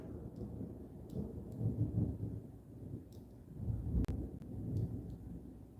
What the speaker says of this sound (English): if it's thundering